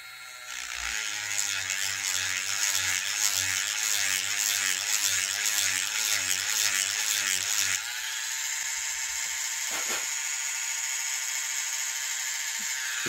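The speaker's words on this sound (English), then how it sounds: "I'm going to use the router bit in the cavity just to enlarge it just a little bit" A router bit spins inside a small wood cavity to enlarge it, giving a loud, steady high whine with a buzzing, pulsing rattle while cutting, then a smoother whir as it runs on, with a brief scrape near the end.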